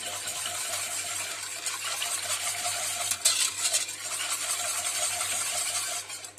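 Stirring a strawberry dessert mixture made with milk in a bowl, a steady wet swishing and scraping that runs continuously for several seconds, close and fairly loud, with no talking.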